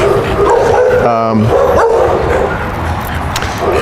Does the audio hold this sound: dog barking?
yes